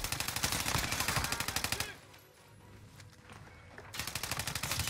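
Rapid automatic gunfire from a video game rattles in two loud bursts of evenly spaced shots separated by a quieter gap of about two seconds.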